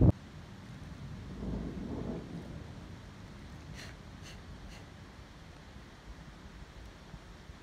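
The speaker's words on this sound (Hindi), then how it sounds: "और साथ में बारिश भी हो रही है" Rain falls steadily outside a house as a soft, even hiss, with a low rumbling swell early on like distant thunder, and a few faint clicks later.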